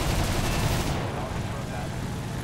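Guns on a Fw 190 A-8 fire in a burst during a dogfight in War Thunder, loud and dense for about a second before cutting to a quieter engine drone.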